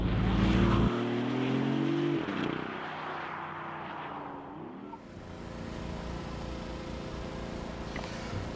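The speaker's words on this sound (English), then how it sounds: "a great opportunity now to drive the car back in electric mode" A BMW i8 plug-in hybrid sports car cruising in electric mode, a smooth road and wind roar with a faint whine whose pitch slides up then settles into a steady drone, with no voices.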